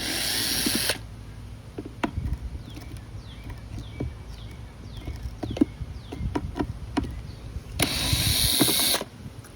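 A star bit driver unscrews four screws on a Navimow robotic mower charging station, giving a run of faint clicks and scrapes between two louder bursts of whirring at the start and end, with no talk.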